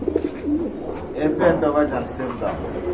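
Pigeons kept for sale coo softly and steadily, close by, while a person talks over them.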